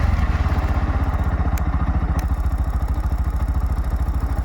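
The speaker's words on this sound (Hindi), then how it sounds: "और ये बाइक स्टार्ट करते हैं।" A Bajaj Pulsar NS125 motorcycle engine runs close by with a fast, even thumping idle beat, loud and steady throughout, with a couple of faint clicks over it and no talk.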